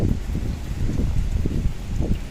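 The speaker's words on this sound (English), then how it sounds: "it's pretty windy out here" Strong hurricane wind rumbles and buffets in low, uneven gusts outdoors, a loud continuous roar over the short stretch with no voices.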